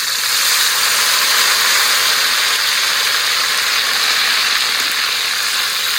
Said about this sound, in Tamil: இப்போ மிளகாயை பொரிக்க போகிறோம்.